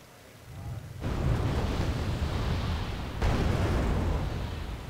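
Warship guns bombarding ground targets in Wargame Red Dragon, heard as two heavy explosive blasts a couple of seconds apart, each leaving a long rumbling roar. A faint voice speaks.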